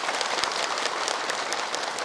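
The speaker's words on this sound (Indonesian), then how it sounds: "Boleh tepuk tangan." Studio audience applause for an Indonesian religious TV talk show segment, a dense steady patter of many hands clapping throughout, moderately close and fairly even in loudness.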